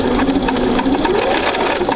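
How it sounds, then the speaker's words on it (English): A sewing machine stitches a quarter-inch seam on quilt fabric, a close, steady motor whir with rapid needle ticking running continuously. "So let's sew that. Get that 1/4 inch."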